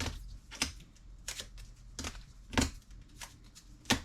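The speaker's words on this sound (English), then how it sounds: "Now we're going to start putting the painter's tape on." Strips of painter's tape pulled and pressed onto plastic top loaders holding sports cards, giving several separate crisp tearing and tapping bursts in a quiet close-up room.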